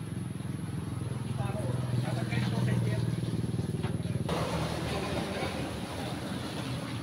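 A Skygo 150 motorcycle engine idles steadily up close, a continuous low rumble holding an even tone throughout.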